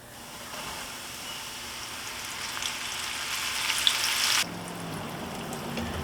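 Flour-dredged shrimp deep frying in a fryer basket give a steady, loud broadband sizzle that holds for about four seconds, then drops suddenly to a quieter, duller bubbling.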